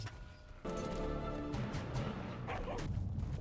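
Bulb Dog creature from ARK Aberration barking and yipping in a video game, a busy run of dog-like calls over steady game ambience.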